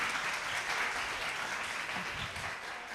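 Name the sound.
audience applause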